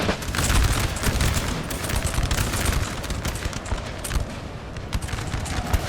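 Danish militia troops fire rolling musket volleys in Napoleon: Total War during the 1807 Battle of Køge, a loud, dense crackle of overlapping gunshots that continues without pause.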